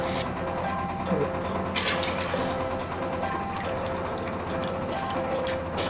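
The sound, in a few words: water being poured into chicken stock for rice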